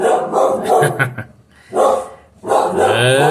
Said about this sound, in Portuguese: Tem alguém que tá latindo.